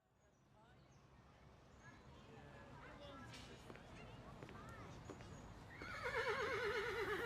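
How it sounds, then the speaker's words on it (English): A horse whinnies near the end in a private indoor horse arena over a quiet background, with faint hoof clops and distant murmuring before it. "This is Mr. Tobias's private horse arena"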